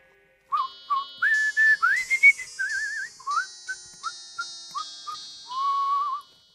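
A person whistles a short melody alone, clear sliding notes in a lively sequence, some held and some quick, close and moderately loud.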